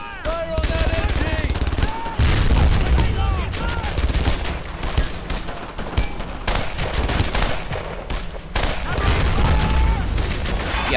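Dense machine-gun and rifle fire in the World War II shooter Brothers in Arms: Earned in Blood, aimed at an enemy MG nest in St Sauveur; rapid overlapping bursts and booms, loud and continuous, with voices calling out beneath.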